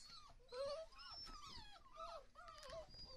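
Five-week-old puppies whimper and growl in a run of high, wavering whines and small yips, close and fairly quiet, with no talking.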